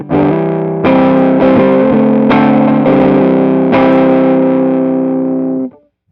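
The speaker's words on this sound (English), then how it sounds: "this is the Black Arts Toneworks Pharaoh Fuzz" A Black Arts Toneworks Pharaoh Fuzz guitar pedal drives a thick, sustained fuzzed guitar, loud and close, with several strummed chord changes ringing out before a quick cut to silence.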